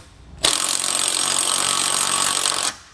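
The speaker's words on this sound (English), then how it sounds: "Same size socket, we'll tighten these down." A powered socket driver tightens bolts on a Blue Ox TrackPro weight distribution hitch with a single loud, steady, rasping whir that lasts about two seconds, then stops abruptly.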